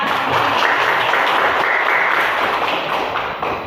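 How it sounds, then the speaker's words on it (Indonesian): Classroom of students applauding a presenting group, dense steady clapping filling the room at close range and tapering slightly at the end. "ayo kita berikan tepuk tangan untuk teman kita"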